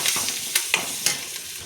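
Curry leaves hit hot tempering oil for a drumstick-leaf dal, crackling and sizzling loudly up close, with sharp pops and spoon scrapes in an uneven rhythm over a steady frying hiss.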